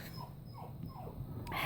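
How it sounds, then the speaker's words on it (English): A puppy whining in a few short, falling whimpers, close and soft against a low background hum. "My puppy's whining."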